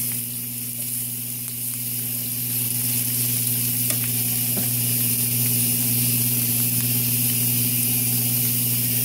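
Stuffed pork cutlets with cornbread sausage stuffing sizzle steadily in a hot pan over medium heat, a constant close frying hiss with a low steady hum beneath and a few faint clinks.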